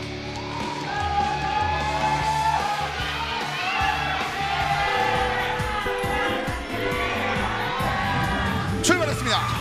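Crowd at a KartRider esports league match for third place, with loud continuous cheering, yelling and whoops throughout, layered over an announcer's voice and arena noise.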